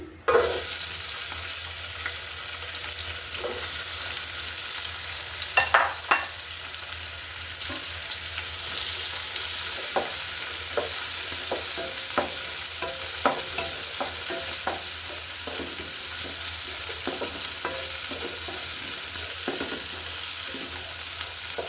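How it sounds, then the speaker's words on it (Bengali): Chopped onions frying in oil give a steady background sizzle under repeated spatula scrapes and taps that come irregularly throughout. Close, moderate level, no voices. "পেঁয়াজটা কিছুক্ষণ ভেজে নিব যেন পেঁয়াজটা সফট হয়ে আসে।"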